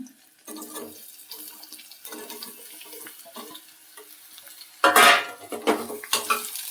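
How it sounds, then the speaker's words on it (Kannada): Chopped radish pieces tossed into a hot pan with green chillies for a Karnataka-style radish palya, a sudden loud sizzle and clatter after quieter kitchen clinks and stirring. "ಈಗ ಹೆಚ್ಚಿರೋ ಹೋಳನ್ನು ಹಾಕ್ಕೊಳ್ತೀನಿ"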